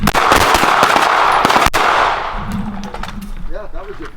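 Pistol shots in a combat shooting drill on a range crack out loud and close in a quick string early on, then trail off into lingering echoes and a voice speaking.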